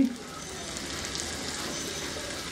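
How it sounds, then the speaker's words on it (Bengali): Green peas, green chillies and red chilli fry in a pan for a cabbage and pea dish, giving a steady, even sizzle that stays moderately loud from start to finish, briefly starting with a faint clink. "4-5টা কাঁচামরিচ, লাল মরিচ এর সাথে ভালো মতো মিশায় একটু ভেজে নিব"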